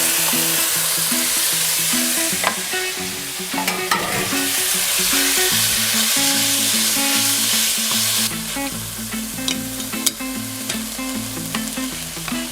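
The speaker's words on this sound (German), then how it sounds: "werde ich dann das Fleisch jetzt auch anbraten" Meat for bibimbap sizzles and fries loudly in a pan, with occasional scraping and stirring clatter over a constant low hum.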